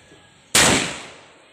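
A single sharp rifle shot cracks out loud and close, with a short fading echo at an outdoor firing range.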